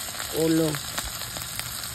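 Dried fish fries in a pan with a soft, continuous sizzle close by, while a voice briefly speaks over it.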